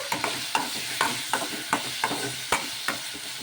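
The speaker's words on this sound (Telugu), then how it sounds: "టమోటో పచ్చిమిర్చి ఆనియన్ ఇవన్నీ కూడా వేసేసుకొని ఒకసారి బాగా కలిపేసుకొని" Tomato, green chilli and onion fry in a pan, stirred with a spatula that scrapes and taps in a steady rhythm, roughly twice a second, over a continuous close sizzle.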